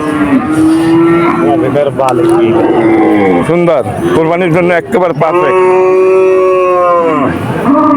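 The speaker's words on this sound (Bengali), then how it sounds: "দারুণ একটা গরু" Cattle low repeatedly beneath steady, close conversation at a Qurbani cattle market in Udaypur, Bagerhat, with the animal calls blending into the constant voices.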